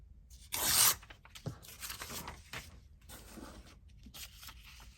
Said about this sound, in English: I could probably even fold this paper and just hand tear it, but I'll use my ruler.